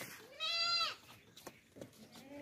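A sacrificial goat for Qurbani, a heavy, fat animal of about 32 kg at a livestock sale, gives one clear wavering bleat up close, followed by softer shuffling and faint background sounds.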